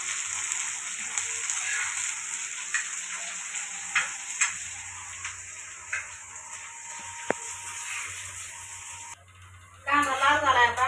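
Curry leaves from the tree, still wet from the rain, spit and splatter in hot oil while chutney made from country ridge gourd cooks in a traditional way. A steady close crackle with brief sharp pops, then someone speaks near the end.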